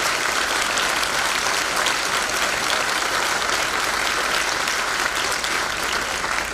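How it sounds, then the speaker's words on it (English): A crowd at a House Republican political event applauds for law enforcement officers, producing loud, sustained, uniform clapping from many hands with no break. "Let's give all of our law enforcement officers a round of applause."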